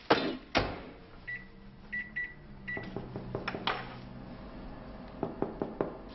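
A microwave oven heating a frozen dinner gives short electronic beeps in small groups, with clunks and clicks between them, close by and fairly quiet, with no voices.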